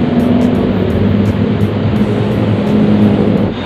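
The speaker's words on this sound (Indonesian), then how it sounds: "Udah mulai banyak bis masuk ya" Large intercity coach buses rolling into a busy bus terminal in Indonesia, a steady loud engine rumble with continuous broadband road noise and a low diesel drone throughout, no talk.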